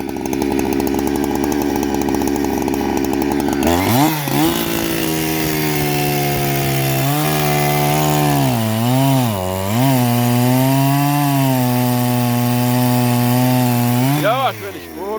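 A chainsaw with a diamond bar and a blunted chain cuts wood that had iron driven into it. The engine runs loud and close throughout, idling roughly, then revving into a sustained buzzing whine that dips and rises as it bites.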